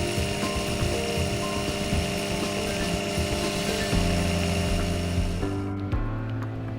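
A small lathe turning a cement chuck in a watchmaking workshop, a steady close mechanical whine and hum with tonal motor lines, continuous and fairly loud, the pitch shifting slightly toward the end.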